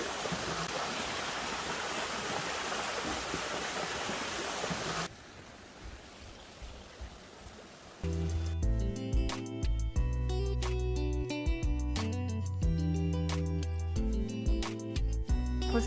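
A mountain stream rushes through a valley on Dobongsan, a loud, steady broadband roar for about five seconds before dropping away; a quieter stretch follows, then music takes over.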